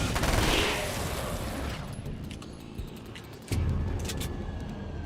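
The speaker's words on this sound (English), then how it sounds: "Oh yeah, no, the submachine gun is fantastic." A submachine gun fires in the video game Alan Wake's American Nightmare, with a dense, noisy burst of gunfire followed by scattered sharp cracks and a renewed loud rush of sound near the end.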